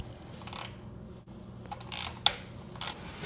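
A ratchet fitted with an 8mm socket turns a footpeg bolt on a Suzuki V-Strom motorcycle, giving several short, quiet bursts of rapid clicking close up, with one sharper metallic tick partway through.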